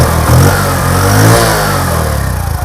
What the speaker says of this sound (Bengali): দেখেন স্যালেন্সার সাউন্ড